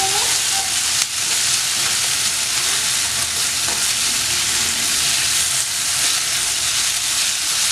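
A masala mixture for chilli bread is stirred as it fries in a pan, a loud, dense, continuous sizzle and hiss close up with faint scraping, and no speech.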